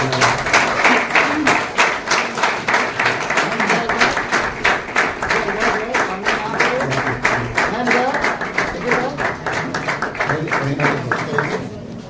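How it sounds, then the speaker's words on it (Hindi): Guests at a Christian wedding ceremony clap in a steady, rhythmic beat that continues for the whole stretch, loud and close, with voices talking and singing beneath it. "तालियों को बजाएंगे आप सामने।"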